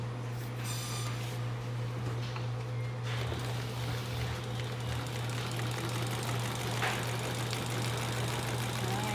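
A sewing machine stitches the binding of an annual report, running as a steady, even mechanical hum with a low motor drone throughout.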